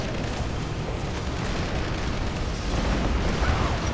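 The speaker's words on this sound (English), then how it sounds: "Another bombing run." Explosions from a bombing run in Red Alert 3, heard as a continuous loud rumble of blasts that swells toward the end.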